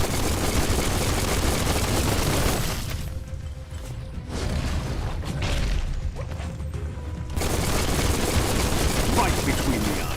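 Video game gunfire, dense and continuous, fills the start and end with noisy shooting. A quieter gap in the middle holds muffled shots and mechanical clicks.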